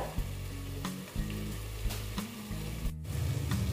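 Soybean and egg curry frying in a covered pan on the stove, a close, steady sizzle with a few soft knocks and clatters of the lid or spoon, and no voices.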